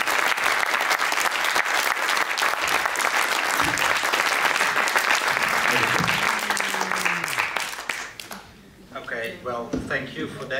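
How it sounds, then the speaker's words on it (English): Conference audience applauding at the close of the first global VPL Biennale, sustained dense clapping for about eight seconds that tapers off as a voice starts speaking. "I think that he really deserves an applause."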